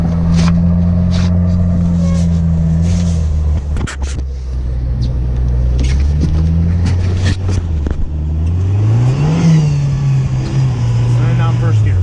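A Jeep TJ engine runs steadily in snow, its low drone shifting pitch as it revs up and settles in first gear, loud and close throughout while someone talks over it.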